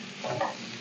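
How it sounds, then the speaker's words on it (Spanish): Garlic fries in a pan with pork cracklings, a short, soft crackling sizzle with a faint scrape of stirring. "Vamos a sofreír el ajo"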